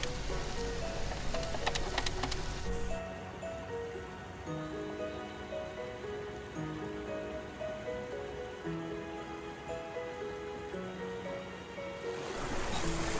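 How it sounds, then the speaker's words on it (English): Homemade artificial rain patters and splashes steadily, with a louder burst at the start and end and a softer continuous shower between. "I decided to make my own rain and muddy water"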